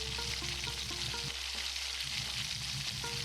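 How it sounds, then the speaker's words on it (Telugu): Whole spices crackle and fry in a spoonful of ghee in a kadai, a steady close sizzle under a low, constant hum with a brief drop in the bed midway, no voices. "అదే కళాయిలో 1 స్పూన్ నెయ్యి వేసుకుందామండి, లేదంటే ఆయిల్ కూడా వేసుకోవచ్చు. అందులో ఈ మసాలా దినుసులన్నీ వేసుకుందాము."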